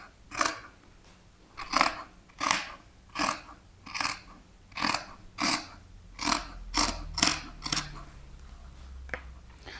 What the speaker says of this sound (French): Et là, je découpe mon tissu.